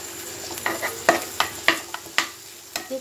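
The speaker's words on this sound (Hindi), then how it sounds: "जो जो चीज़ हमने तड़के में डाली वो सारी चीज़ हम फ्राई करेंगे अच्छे से।" Tempering masala for dal frying in a pan with tomato, a soft sizzle under repeated sharp spoon scrapes and taps against the pan, close and intermittent.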